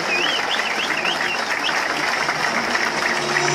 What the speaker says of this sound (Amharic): አንድ ጊዜ የክብር ጭብጨባ እንድትሰጧቸው ጠይቃለሁ